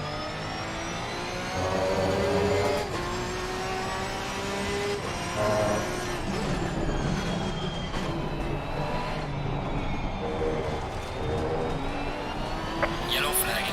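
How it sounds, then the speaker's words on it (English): A Porsche race car engine in the racing game Assetto Corsa Competizione rises and falls through revs with harmonic whine and gear changes, while someone talks over it much of the time. "Oh, the sound of this Porsche"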